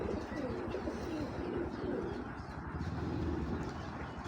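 Pigeons coo in a low, repeated rolling murmur, with several birds overlapping at close range throughout, over a steady background hum and no speech.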